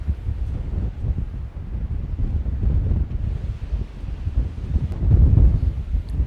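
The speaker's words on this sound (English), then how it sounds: "I think it's so windy right now that it might get blown off" Strong wind buffets a Sennheiser Profile wireless clip-on microphone with its wind cover fitted outdoors, a continuous loud low rumble with gusting surges and no voices.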